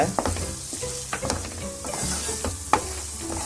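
Ground spinach paste being stirred in a frying pan for palak paneer, with soft sizzling and scraping strokes of a spoon, occasional sharp clinks against the pan, close and clear.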